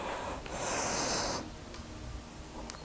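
A single long, forceful breath out, close and breathy, during a shoulder mobility exercise holding a stick, then a quieter stretch of room tone with a couple of faint clicks.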